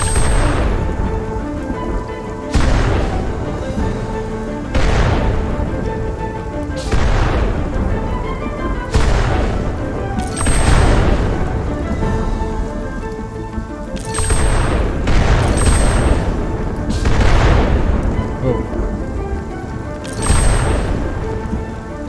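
A rainstorm in the video game Spiritfarer, with steady heavy rain underneath a series of loud thunder cracks and rumbles arriving every couple of seconds throughout.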